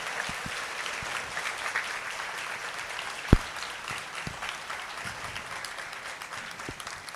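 A church congregation at an Easter Vigil Mass in Lahore applauds in a sustained, even roar of many hands, with a few sharper individual claps and one loud nearby clap standing out.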